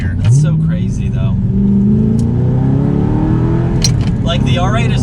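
A manual Audi R8 with a Pedal Commander pulls hard in second gear after a downshift, the engine note rising steadily in pitch under loud in-cabin talk from the occupants.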